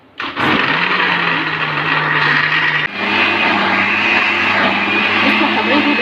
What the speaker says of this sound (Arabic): هقوم ضاربه كل المكونات دي كده مع بعضها في الخلاط